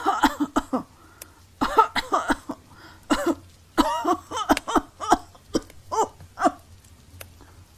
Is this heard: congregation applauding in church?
no